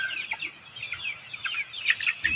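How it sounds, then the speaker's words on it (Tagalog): Shamo chickens on a backyard farm cluck and chirp in a steady scatter of short calls just after feeding, with quick repeated notes close by and no talk over them. "At ito naman ang aking mga alagang mga shamo na manok guys."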